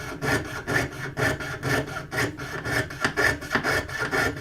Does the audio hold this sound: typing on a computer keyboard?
no